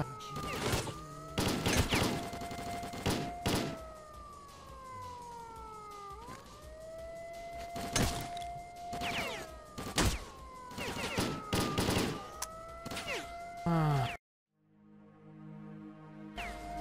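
Rapid bursts of gunfire in S.T.A.L.K.E.R.: Clear Sky crackle repeatedly over a wailing siren tone, loud and close, before cutting to a brief quieter musical passage.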